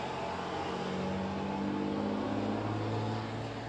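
A steady, droning rumble of vehicle engines on a road under repair, with a car seeming to rev and pass nearby, continuous and moderately loud with no talking.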